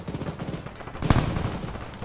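A BMP armoured vehicle fires its gun in ArmA 3, a rapid burst of loud gunfire with one heavier shot standing out midway through the rattle.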